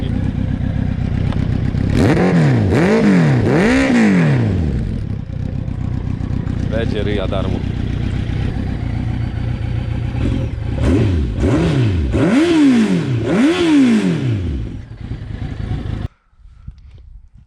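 Kawasaki Z1000 motorcycle with a single exhaust fitted with dB killers, revved repeatedly in sharp rising-and-falling bursts, loud and close, with a pause midway before another series of throttle blips; someone speaks briefly.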